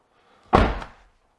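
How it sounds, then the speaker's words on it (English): A Chevrolet C8 Corvette door, fitted with carbon fiber door blade trim, shuts once with a single close, solid thunk that fades quickly to quiet. "Make sure our door opens up."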